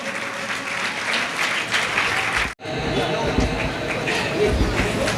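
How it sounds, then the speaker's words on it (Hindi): Loud crowd applause at a Jain award ceremony in Itarsi, dense clapping mixed with murmuring voices, briefly cut off midway before resuming. "जोरदार ताली बजा दो।"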